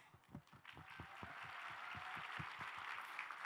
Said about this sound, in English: let's give another special round of applause for UND